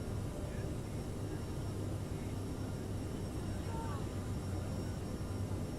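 An airliner climbs away after takeoff in a flight simulator game, its engines holding a steady, dense roar with a deep low rumble that stays even and unbroken throughout.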